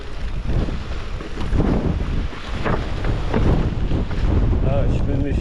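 Strong gusts of wind buffet the microphone on an exposed mountain descent by electric-assist mountain bike, a loud continuous roar with surging peaks throughout.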